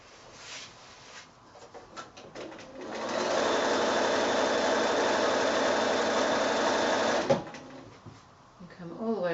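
A sewing machine stitches a quilt in a loud, steady run lasting several seconds, then stops as the needle is left down to pivot at a corner, with someone talking before and after.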